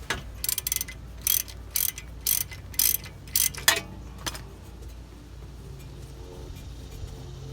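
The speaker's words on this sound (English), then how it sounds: "get yourself a 17mm wrench and get that nut off" A 17mm wrench works the castle nut loose on a Toyota Camry outer tie rod end, giving about eight sharp, bright ratcheting bursts in quick succession, each brief and clicky, before the sound falls to a low quiet hum.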